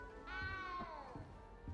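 A cat meows in Hogwarts Legacy: a single drawn-out, falling meow lasts about a second, loud and close, over faint game ambience.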